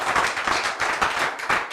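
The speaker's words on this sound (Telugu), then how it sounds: "ఓకే గట్టిగా మురళి క్లాప్స్ కొట్టండి" A classroom of students at a spoken English institute claps in quick, uneven bursts, close and lively, with several short pulses of clapping and no talk over it.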